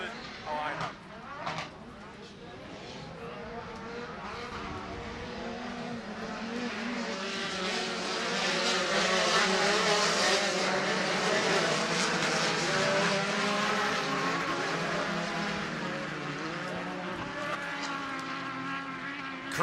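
Several race cars roar around a dirt oval at Bark River, a dense, continuous engine drone building louder toward the middle and staying steady, with commentary voices talking over it.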